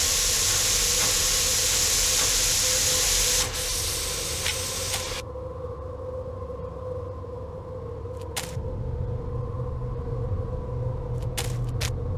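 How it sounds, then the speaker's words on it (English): Escaping steam from the Murder on the Orient Express game sprays as a loud, bright hiss for several seconds, then cuts off, leaving a low mechanical rumble with brief hissing bursts. "This must be where the steam is escaping."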